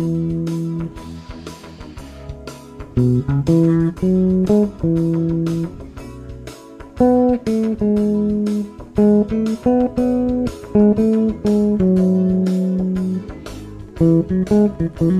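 Electric bass improvising a solo melody, plucked notes in a busy, uneven rhythm with short runs and held tones, close and clear with nothing else playing.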